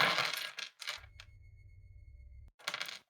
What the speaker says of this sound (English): The dice sound.